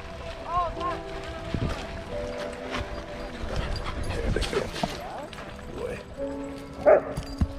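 Large dogs, including Blue Bay Shepherds and German Shepherds, bark and romp at a dog park, scattered barks and scuffles mixed with nearby people talking.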